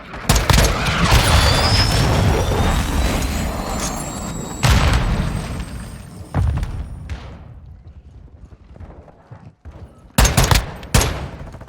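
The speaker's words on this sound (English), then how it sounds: "Friendly cruise missile approaching target" Cruise missile strike in Call of Duty, heard as a dense barrage of loud booming blasts and gunfire at the start, a few more heavy bursts midway, and a final pair of sharp explosions near the end.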